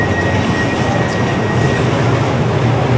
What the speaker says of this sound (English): Those are some extremely dirty train tracks coming in.